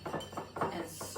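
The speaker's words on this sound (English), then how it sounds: "stir it up until it's all mixed together" A spoon clinks against a cup or bowl while stirring a mixture of marshmallow tea and aloe, giving quick close taps and scraping clinks in an uneven rhythm over a brief moment.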